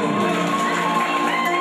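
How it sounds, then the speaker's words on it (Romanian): A crowd at a baptism celebration cheers and claps loudly together in a brief, dense burst of noise. "vă rog, să aplaudăm!"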